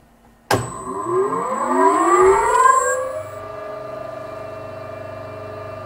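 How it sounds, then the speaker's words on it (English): An electric motor on a machine test bench switches on with a sudden onset, its whine rising in pitch as it spins up, then settling into a steady loud hum alone. "now I can switch on the motor"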